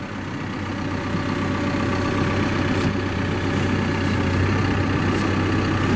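Caterpillar 420F backhoe loader from 2014 running steadily with four-wheel drive engaged, a constant low diesel drone and hum held at an even level throughout, close by with no talking.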